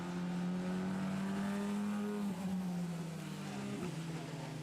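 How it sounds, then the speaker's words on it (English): Formula 4 single-seater race car engine at the Most circuit, a loud sustained high whine with slight pitch dips as it shifts, while a second car runs alongside in its slipstream. "this is Max Karhan in his Jense Motorsport machine, slipstreaming past Oliver Michel"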